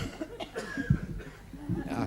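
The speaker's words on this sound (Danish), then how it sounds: "Ja, der hostes jo lidt der alligevel." Coughs and light laughter scattered through a 1970s Danish television studio audience, short bursts rising and falling over a low murmur, close and moderately loud.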